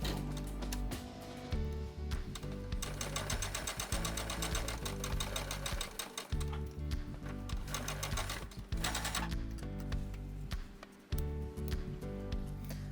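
A sewing machine stitches red and white quilt squares together with a quarter-inch seam, running in steady bursts with short pauses between runs, close and clear with no talking.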